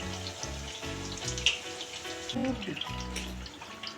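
Jibhe goja sweets deep frying in hot oil, with a steady soft sizzle and bubbling throughout as the pieces are turned, with a few light clinks.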